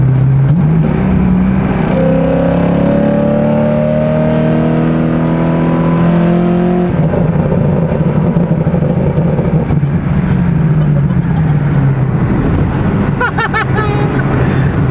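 Car engine heard from inside, revving up loudly as it accelerates to overtake another car, the pitch climbing in steady gear pulls.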